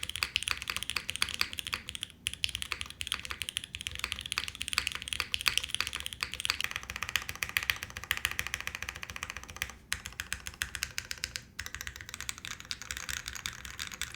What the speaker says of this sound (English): You can see as we type on it, it gets a little bit louder.